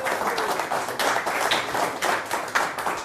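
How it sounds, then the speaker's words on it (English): A room audience claps for a volunteer named Leela, a steady, moderately loud patter of many hands filling the space without pause. "Give Leela a big round of applause"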